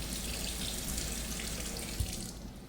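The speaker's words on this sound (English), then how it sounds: "What you're going to do now is run the water to warm," Tap water runs steadily from a bathroom faucet into a sink to rinse a cleaning brush, a continuous close hiss with a brief low splash near the end.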